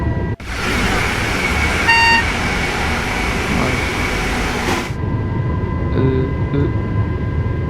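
A TGV high-speed train driven on a French high-speed line in Train Sim World 4 gives a steady, loud rolling rumble with faint tonal whines and chimes, while someone speaks briefly.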